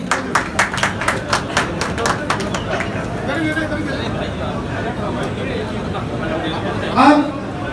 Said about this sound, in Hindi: भाई जोरदार ताली बजा दीजिए